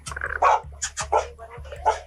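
Dogs inside a trailer give a handful of sharp, close barks and yips at an uneven pace over a low droning hum.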